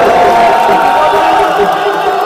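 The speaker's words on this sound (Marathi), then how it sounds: "जोरदार टाळ्या वाजवा" A crowd at a Ganesh festival decoration competition prize ceremony in Navi Mumbai bursts into loud, sustained applause and cheering, a dense continuous roar throughout with voices mixed in.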